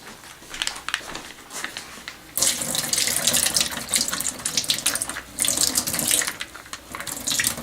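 Running water pours and splashes steadily into a kitchen sink as water is drained off, the flow surging louder at times and easing in between, close by with no voices.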